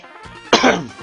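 One short, harsh cough, close by, preceded by a brief throaty rasp.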